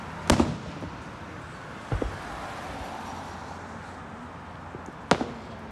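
Fireworks on Independence Day pop at a distance, three separate bursts spaced irregularly over steady outdoor ambience, the first and last sharper and louder than the middle one.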